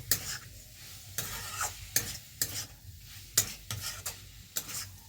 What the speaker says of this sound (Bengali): দিয়ে কষিয়ে নেব, আবারও কষিয়ে নেব।